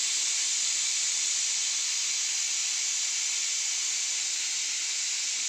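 Pressure cooker steam hissing after the whistle while matar gajar pulao cooks: one steady, loud, unbroken hiss fills the whole stretch with no variation, and no voices.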